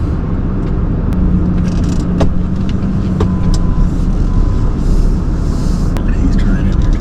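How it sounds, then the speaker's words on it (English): A car approaches along a road by rural private property, a steady, broad engine and tire rumble that holds for several seconds while people talk quietly nearby. "there's a car coming"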